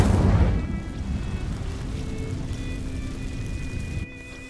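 An Incendio fire spell igniting dry vines in the video game Hogwarts Legacy: a sudden booming whoosh as the flames catch, settling into a steady, loud roaring crackle of burning that cuts off abruptly near the end.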